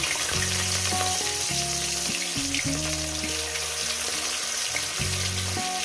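Fish pieces frying in hot oil for a Bengali fish curry, giving a loud, steady sizzle with bubbling crackle throughout, alongside a shifting tonal hum layered underneath.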